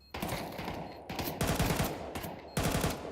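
Rapid automatic gunfire from a Counter-Strike 2 match cracks out in several loud bursts separated by brief pauses, close and dense, with no voices over it.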